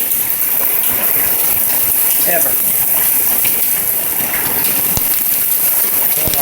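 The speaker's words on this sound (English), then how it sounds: "Worst hailstorm of my life." Heavy hail and rain pound down in a steady, dense roar during a hailstorm in Pauline, South Carolina, with a person speaking briefly under the noise.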